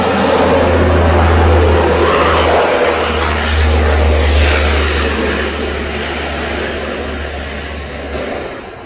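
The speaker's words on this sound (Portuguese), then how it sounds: "Esse avião barulhento é americano." A loud American propeller airplane drones steadily, its low engine hum constant and close, slowly fading a little toward the end.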